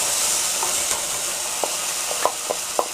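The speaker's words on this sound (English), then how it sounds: "Now we're going to add a 15-ounce can of tomato sauce." Canned tomato sauce hitting a hot pan during chicken tikka masala cooking, giving a loud, steady sizzle and hiss with a few soft bubbling pops toward the end.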